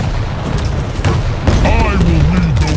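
Rocket launcher blasts in Quake Champions, deep booming explosions thudding over a dense game soundscape, with a voice talking over the action.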